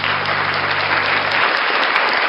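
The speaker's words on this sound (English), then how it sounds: "Ladies and gentlemen, round of applause for NCR News Network." A live audience claps loudly and continuously on a talk show, a thick, close roar of many hands applauding throughout, with no speech.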